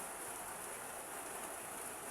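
Rain falls steadily and softly, a continuous even hiss at low level with no other sounds standing out.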